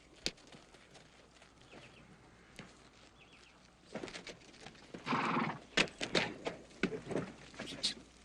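Horses in an Old West setting give off soft hoof clops and faint snorting, then a louder whinny-like burst midway, followed by scattered close thuds and shuffles.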